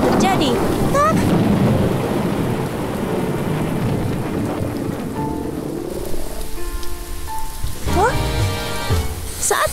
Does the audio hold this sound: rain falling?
yes